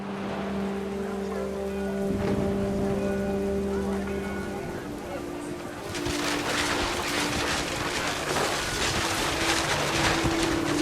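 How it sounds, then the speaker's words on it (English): Heavy rain in the video game What Remains of Edith Finch pours steadily, a dense broadband hiss that swells louder partway through, with a low tonal hum beneath in the first half. "The rain came down in buckets then"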